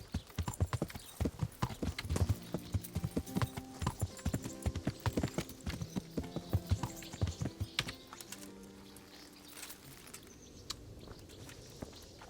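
Horse hooves clip-clop in a steady walking rhythm in the video game Kingdom Come: Deliverance, with a roan horse at a stud, fairly close and prominent, quieting to faint steps and ambience near the end.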